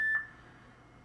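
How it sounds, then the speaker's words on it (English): A single electronic beep from an exercise timer running out sounds loud and clear at the very start, then quickly cuts off into quiet room tone. "My timer just ran out."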